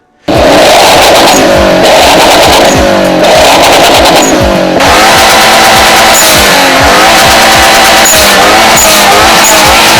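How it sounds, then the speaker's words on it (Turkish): A loud modified turbocharged Subaru boxer engine revs hard and continuously, its exhaust roaring through repeated rises and falls in pitch, close and without pause. "bir Subaru olduğunu belli eden o kendine özgü egzoz sesi"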